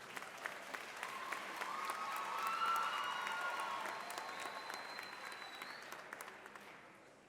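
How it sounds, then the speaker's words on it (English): Audience applause for musical guests at an MLK event, a fairly quiet crowd clapping steadily that swells in the middle and tapers off, with a few voices calling out over it. "How about one more round of applause for all of our amazing musical guests."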